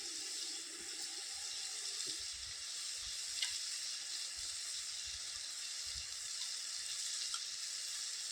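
Tomato and turmeric hitting the pan for a Malvani prawn curry in a village kitchen give a steady, close sizzle with a few soft stirring scrapes and knocks and no talk.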